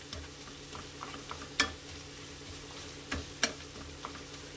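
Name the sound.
onions frying and being stirred in ghee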